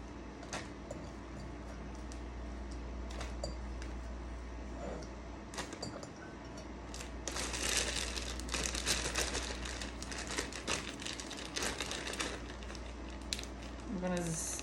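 Pieces of squash dropped into a plastic bag holding cornmeal and sugar: crinkly plastic rustles and soft thuds that build into a dense burst of rattling and crumpling, then settle.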